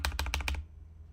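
Four quick keystrokes on a computer keyboard, close and crisp, clustered in the first half second before falling quiet, with no talking.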